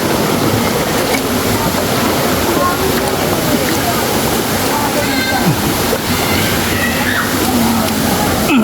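Steady broadband rush of a waterfall with clear water, close and loud throughout, with no pauses, while people talk faintly over it.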